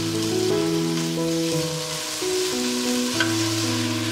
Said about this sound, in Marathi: नंतर त्यावर अळूची व माठाची बारीक कापलेली पाने घाला व परतवून घ्या।